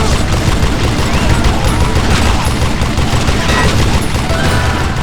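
Gunfire in the Western shooter Call of Juarez: Gunslinger comes as a dense, loud, continuous volley of shots over a heavy rumbling bed. The firing stays steady from start to end, with no talk.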